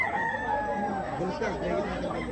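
A fighting rooster of a distinctive breed, about fifteen months old, crows in a long drawn call over a busy background of crowd chatter and other fowl at a gamefowl farm.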